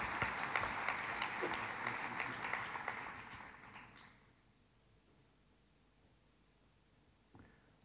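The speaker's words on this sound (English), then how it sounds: "Nice round of applause for our panelists for joining us today here in the Dead Sea." An audience at a Dead Sea conference panel gives the panelists a round of applause, dense clapping that carries for about four seconds, then fades to quiet room tone with a faint knock near the end.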